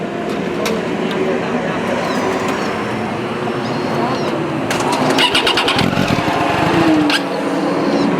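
A 2016 Triumph Daytona 675R fitted with an Arrow slip-on exhaust cranks and fires up close by, settling into a loud, sharp idle with quick blips of throttle as people talk nearby.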